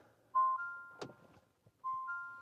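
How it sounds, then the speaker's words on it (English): A 2025 Fiat 500e electric car powers on with a clear two-part electronic chime, then a soft thunk and faint clicks, then the melodic tone returns, all close and quiet inside the cabin. "I will push on the start button"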